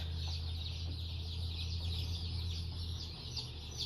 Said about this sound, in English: Here I am, 125 baby chicks on their